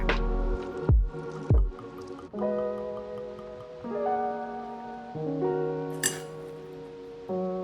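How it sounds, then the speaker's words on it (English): One ounce of vodka is poured into a cocktail shaker: a few sharp clinks of glass, then a thin ringing trickle of liquid whose pitch shifts as the vessel fills, close and fairly quiet. "First thing I do is gonna do 1 ounce of vodka"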